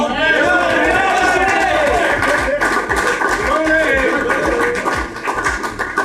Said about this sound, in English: round of applause for Matt Lamb, please.